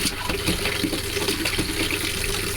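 Water mixed with pink antifreeze gushes steadily from a camper sink faucet, a continuous close splashing rush with no voices.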